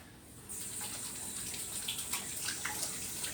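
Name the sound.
washing hands under a running tap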